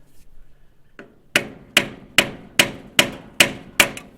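A hammer taps a screwdriver set in a notch to tighten a nut on a 1929 Model A Tudor Sedan: a faint knock, then seven sharp evenly spaced metallic strikes up close.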